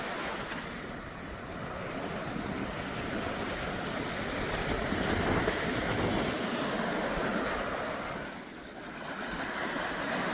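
Ocean surf rolling onto a resort beach strewn with seaweed, a steady broad wash of breaking waves with gentle swells in loudness and some wind rumble, no voices.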